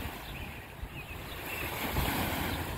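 Strong waves wash along the shore of the Mississippi River at a campground fishing spot, a continuous broad rushing of water and wind close to the microphone.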